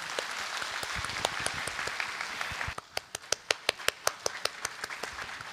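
Audience applause at a senior citizens' platinum fashion show in Kawasaki, a dense wash of clapping that thins after a few seconds into a handful of sharp, loud individual claps close by.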